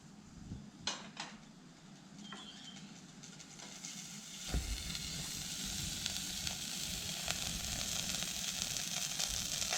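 Butter melting in a pan for a Mornay sauce sizzles steadily, with a few light clinks of the pan early on and the frying hiss growing louder and fuller partway through.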